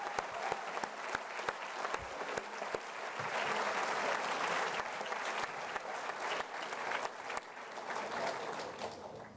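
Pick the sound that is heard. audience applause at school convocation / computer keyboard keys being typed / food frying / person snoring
audience applause at school convocation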